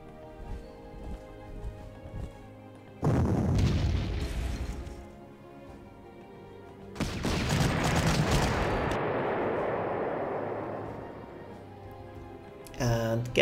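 Heavy artillery booms from the Panzer Corps strategy game in a Soviet Battle of Berlin scenario, coming as long loud rumbling bursts that swell and trail off, with softer thuds between them and a sharp crack near the end.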